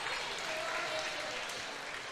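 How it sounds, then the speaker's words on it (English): Crowd applauding at a high school basketball game in a gym, steady distant clapping throughout, with faint voices mixed in. "that was getting the crowd to show their appreciation and respect for Maddox Dow"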